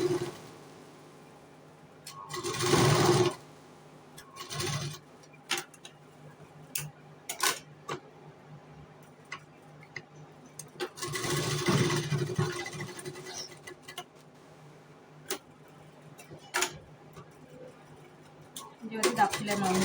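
A sewing machine stitches a piping strip onto a katori blouse in short bursts of fast ticking whirs, with quieter gaps and handling noise between runs.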